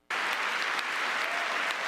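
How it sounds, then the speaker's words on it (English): Audience at a political speech bursting into applause, a sudden onset of dense, sustained clapping that stays loud and even throughout. "We must get up and clap."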